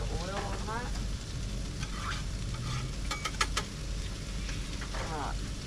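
Oil sizzling on a preheated barbecue hotplate, a dense steady hiss close by with scattered crackles, and a few brief background whistles or chirps drifting over it.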